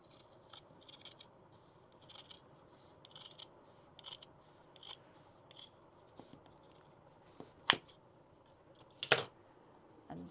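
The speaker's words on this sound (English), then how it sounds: "And cut. Again, sharp scissors." Sharp scissors cut through fabric on a pattern with a regular series of quick, crisp snips, fairly close and quiet, followed by a couple of louder sharp clicks near the end.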